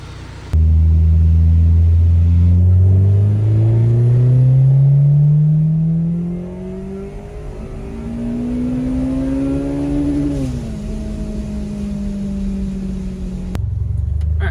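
Supercharged K-swapped Mini Cooper engine on a hard pull, loud and close, its rising drone sweeping steadily upward through the gears for several seconds before easing off and settling to a lower running hum.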